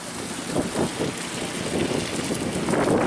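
Steady wind buffeting the microphone outdoors in Wyoming, a continuous low rumble and roar with gusty swells, no voices.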